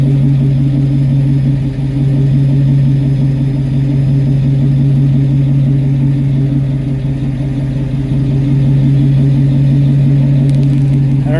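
A 1987 Blazer with a loud exhaust idles steadily at close range, its low engine drone constant and unbroken, with no talk over it.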